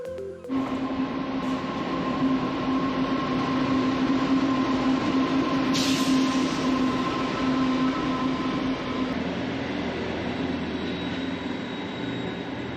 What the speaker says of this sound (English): we got there just in time to see a freight train pass through